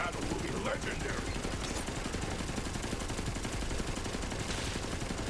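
Sustained, dense gunfire in a Borderlands 3 DLC battle, a continuous rattle of shots and game noise filling the clip at moderate level without a pause.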